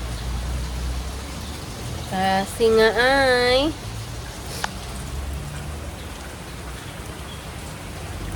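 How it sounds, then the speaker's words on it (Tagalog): Heavy rain pours down in a constant, dense hiss that fills the whole scene, with a voice speaking briefly near the middle over the downpour. "Sobrang ulan."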